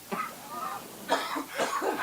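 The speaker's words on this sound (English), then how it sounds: "I love it when you laugh so hard spontaneously that you turn bright red and cough into the corner." After a fit of hard laughter, a person coughs in several uneven bursts, one short hack followed by a cluster of louder coughs, close to the mic.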